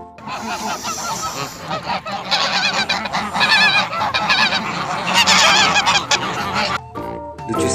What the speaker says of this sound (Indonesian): Widih, ini angsa.